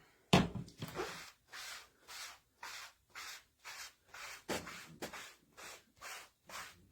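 A cloth or wipe rubs back and forth across a wooden serving tray to clean off paste, giving about a dozen even, rhythmic swishing strokes, close and fairly soft with short pauses between.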